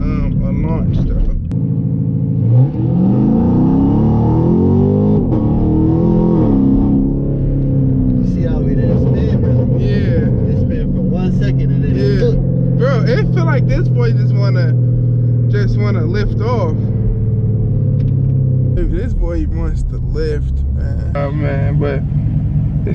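A Chevrolet Camaro 2SS launches in a roll race, its engine revving in a loud rising sweep that settles into a heavy rumble. Someone talks over the engine noise close up.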